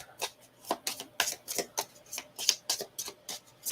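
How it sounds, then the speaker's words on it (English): A deck of board game cards being shuffled by hand, a quick, uneven run of crisp papery bursts close up, with no talking over it. "Actually shuffle more."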